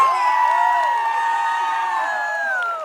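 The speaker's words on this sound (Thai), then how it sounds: "ถ้าถูกใจนะคะกรี๊ดเลย" Audience at a Thai charity concert screaming and cheering: a loud, sustained wash of high-pitched shrieks and whoops from many voices, fading slightly at the end.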